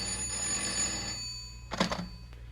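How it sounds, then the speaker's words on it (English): A telephone bell rings in a vintage radio crime drama, one short double burst standing out over a steady background hum, with no voices. "Telephone rang once again."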